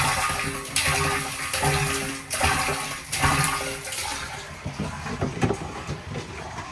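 Water from a garden hose splashing into an emergency water storage tank, a continuous rushing pour with uneven surges and bursts, close and fairly loud, no talking.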